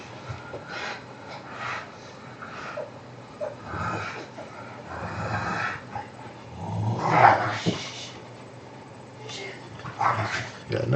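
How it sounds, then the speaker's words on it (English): A dog grows cantankerous indoors during a coin roll search, with low growls and snorts plus a few sharper barks rising around the middle and end, mixed with steady room noise and quiet talk. "That dog decided he's going to start getting all cantankerous just as Dad goes online."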